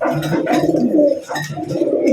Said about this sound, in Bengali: বুক সাদা মিলি কালারের এক জোড়া রাসগোল্লা কবুতর